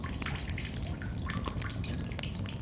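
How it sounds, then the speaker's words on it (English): Water sounds while drinking from a water source in the video game The Solus Project, a steady close wash of running, dripping water with no talk. "There's some water here, so I'm going to have a quick drink"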